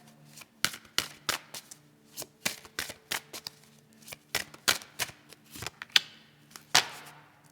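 Chakra Wisdom Oracle deck cards are shuffled by hand in a string of quick, crisp riffling and tapping bursts with short pauses between them. The shuffling is close and fairly quiet, and no one speaks.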